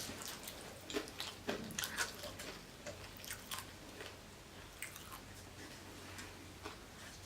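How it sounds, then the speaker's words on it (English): Crunchy deep-fried taco shells being bitten and chewed close up, with a scatter of crisp crackling bites and softer chewing over a low steady hum, no talking. "So as you can hear, these tacos are very crunchy."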